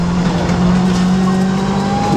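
Loud in-car rally engine from a rally car running a bumpy Isle of Man road section, a steady droning note holding in gear, then pitch shifting as the gears change, close and continuous throughout.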